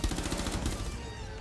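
Rapid burst of gunfire in Rainbow Six Siege on Xbox One, several sharp shots in quick succession ringing out over about a second and trailing off.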